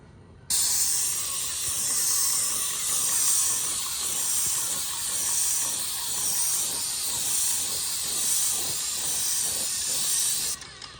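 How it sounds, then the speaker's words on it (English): An airless paint sprayer lays a light mist coat onto bi-fold louver doors, a loud, steady hiss that starts abruptly, holds with slight rhythmic swells and cuts off sharply near the end, with no voices. "Okay, let's spray this. Let's give it our spit coat or mist coat."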